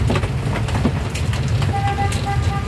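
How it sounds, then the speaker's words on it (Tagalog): A vehicle horn honks in short, repeated blasts amid traffic noise on a rainy street during a typhoon, with a low vehicle rumble underneath. "Pinusinahan pa ako."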